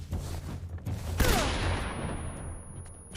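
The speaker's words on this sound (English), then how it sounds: "That way we can stun grenade all of them." A stun grenade bursts in the Metal Gear Solid video game, one sharp blast followed by a crackling, fading wash of noise, with softer game sounds around it.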